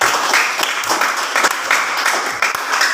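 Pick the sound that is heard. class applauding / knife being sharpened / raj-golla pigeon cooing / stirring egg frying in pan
class applauding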